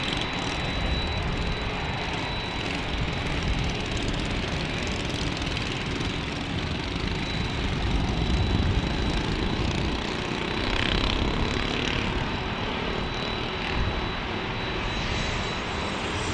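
An Alaska Airlines Boeing 737 Max at San Diego makes a steady, loud jet engine roar that holds broadband and continuous throughout, swelling slightly around the middle, with no voices.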